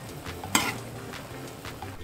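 Shin Ramyun stir-fry noodles and vegetable flakes dropped into a pot of boiling water, giving a brief splash and clatter followed by a steady low bubbling and hiss, close by with no talking.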